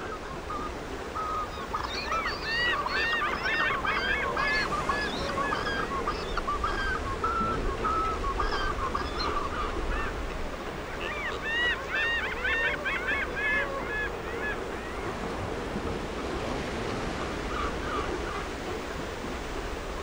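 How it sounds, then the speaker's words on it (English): A large colony of water birds by the glacial lakes of Torres del Paine in Chilean Patagonia honks and calls in repeated clusters, moderately distant, over a steady wash of wind or water. "The proximity of the Pacific Ocean and the numerous lakes attract water birds from the Patagonian region, which form into noisy and abundant colonies."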